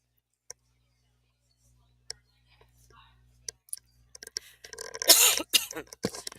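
A few sharp coughs and throat clearing close to the mic, preceded by near silence with faint clicks and soft breaths.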